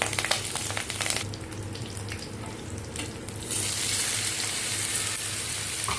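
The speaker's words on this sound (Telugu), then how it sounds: "పచ్చిమిర్చి, ఎండుమిర్చి, జీలకర్ర, కరివేపాకు అవి వేసుకొని కొంచెం ఫ్రై చేసుకుంటున్నాను" Green chillies, dried red chillies, cumin and curry leaves fry in hot oil in a pan, a steady close crackling sizzle that swells and grows louder partway through, with no talk.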